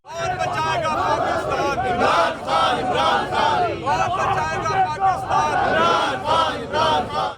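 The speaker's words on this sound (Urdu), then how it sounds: "ریلی میں کارکنوں کی نعرے بازی، پارٹی نغموں کی بھی گونج تھی۔" Party workers chant slogans together at a street political rally in Lahore, a dense, continuous crowd of raised voices rising and falling in rhythmic bursts, close and loud throughout.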